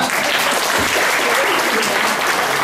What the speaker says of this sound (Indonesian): Tepuk tangan dulu Anda.